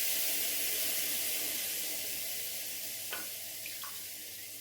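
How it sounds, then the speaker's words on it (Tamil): A cup of water poured into a pan holding roasted rice flour and jaggery for sweet kolukattai, a steady close splashing hiss that slowly tapers off. "ஒரு கப்பு தண்ணி ஊற்றிக்கிறேங்க."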